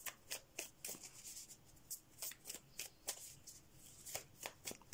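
A deck of oracle cards being shuffled close up, with quick riffling bursts repeating at a steady, brisk rhythm.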